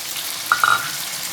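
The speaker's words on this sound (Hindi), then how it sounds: "अब इसके अंदर टमाटर डाल देते हैं और साथ ही सब्ज़ मिर्च।" Tomatoes and green chillies frying with garlic in a pan, a soft steady sizzle with a brief sharper burst of spitting midway, short and close.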